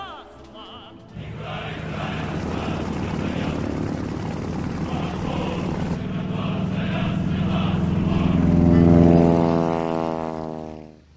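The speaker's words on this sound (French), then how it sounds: "Le légendaire Yak-3, chasseur sans rival, entre en scène durant l'été 1944" A Yak-3 fighter plane's propeller engine drones steadily and loudly, its pitch rising as it passes overhead, then dropping away at the end.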